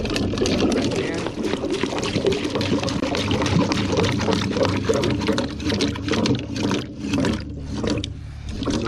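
Water flows through a clean catch basin in a drainage system, a close, continuous splashing rush with a voice talking over it.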